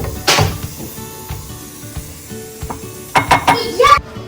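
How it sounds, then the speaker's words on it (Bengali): Bombay duck (loitta) fish jhuri fries in a pan and is stirred, with a soft sizzle under scattered utensil clinks and scraping, then a louder cluster of metallic clatter near the end. "আর এরকম ঝুরঝুরে ভাজা ভাজা হয়েছে"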